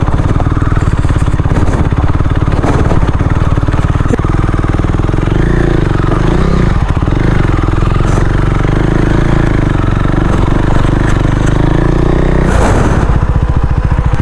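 Motorcycle engine labouring loudly and steadily over a rough off-road track on the way to Tuli Waterfall in Nagaland, with clattering knocks and bumps from the bike over uneven ground throughout.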